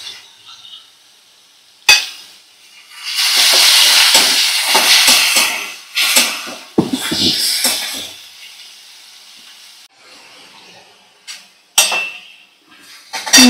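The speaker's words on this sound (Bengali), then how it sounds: "লাউটা একটু ভাজা করে নেব" Chopped bottle gourd with ginger-garlic paste hits a hot pan, bursting into loud hissing and sizzling with clattering utensil scrapes and stirs, then settling and flaring again in uneven bursts.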